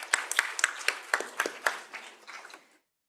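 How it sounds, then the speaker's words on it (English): Scattered applause from a city council meeting audience, a series of distinct sharp claps with a rhythmic quality that thins out and stops after nearly three seconds, fairly close. "Give them a big round of applause."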